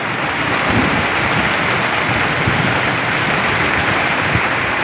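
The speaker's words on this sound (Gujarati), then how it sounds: "વરસાદ તો જુઓ તમે" Heavy storm rain pouring down hard, a dense, loud, continuous hiss and patter with low rumbling beneath, steady throughout.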